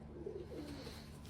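A pigeon coos softly in a few low, rolling throaty notes, quiet and close against a faint steady background hum.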